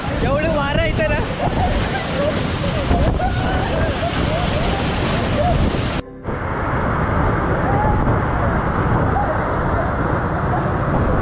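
Aadoshi waterfall in Khopoli roars close by in a thick, continuous rush of falling water buffeted by wind, loud throughout, with a person talking over it in the first half.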